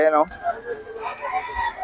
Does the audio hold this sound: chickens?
yes